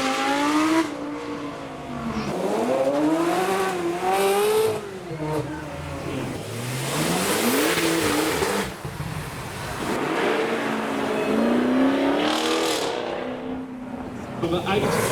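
Audi R8 supercar engine revving and accelerating, loud sweeping rises and falls in pitch as it pulls away and shifts, with voices talking over it.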